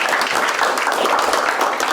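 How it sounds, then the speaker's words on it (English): An energetic group burst of clapping, a "9 clap" at a Cambridge City Town Council meeting, dense steady applause filling the whole moment with a faint voice beneath. "We do what we call 9 claps. Those are the energetic ones."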